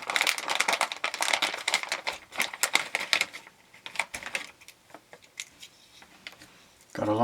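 A plastic Ziploc bag holding TV-B-Gone soldering kit parts is handled nearby, giving quiet, irregular crinkles, rustles and small clicks that thin out toward the end.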